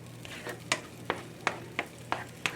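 Organic eggs cooking in a pan, a soft frying hiss punctuated by about seven sharp, evenly spaced spatula taps or scrapes, close and clear with no talking.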